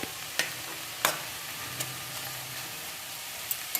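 Bathua greens (beto shak) fry in a pan with a quiet, steady sizzle, broken by a few sharp scrapes and clicks of stirring.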